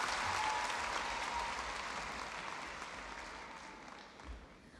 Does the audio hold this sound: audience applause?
yes